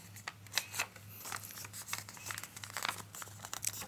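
Origami paper, from a sushi-themed origami kit, being folded and creased by hand: close crinkly rustles and short crackling snaps in uneven bursts, with no talking.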